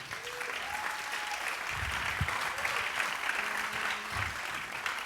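Church congregation applauding during a lively French-language worship service, a steady sustained wash of clapping with a few faint tonal notes drifting through.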